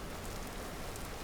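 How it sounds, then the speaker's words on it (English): Rain falls in the survival game Vintage Story, a faint, even hiss of drops with no voices over it. "Nah, I'm actually pretty happy about the rain."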